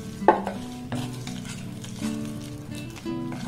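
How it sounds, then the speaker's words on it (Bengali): Cake batter of flour, egg and milk with baking powder being mixed by spoon in a bowl, giving soft repeated scraping and stirring strokes with a sharper knock near the start, close and alone. "আপনারা চাইলে কিন্তু এটাকে হাত দিয়েও মেখে নিতে পারেন, আর নতবে চামচ দিয়ে কিন্তু এইভাবে মেখে নিলেও হবে"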